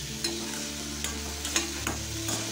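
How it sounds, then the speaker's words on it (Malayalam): Soya beans frying in a pan, with a steady close sizzle and several light scrapes of a spoon stirring them at irregular intervals. "നല്ല നേരത്തേക്ക് ഇങ്ങനെ ഇളക്കി കൊടുക്കാം"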